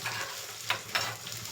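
Cashews fry in a tempering of hot oil in a pan, a low steady sizzle broken by two sharper bursts of stirring, fairly quiet with no voices.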